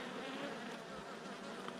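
Honeybees buzz steadily during a hive inspection, a soft continuous drone with a close, faint hum throughout and no speech.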